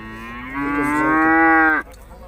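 Cattle at the Urzhar livestock market let out one loud, sustained moo lasting over a second, rising in and cutting off sharply, heard close and alone with no talk over it.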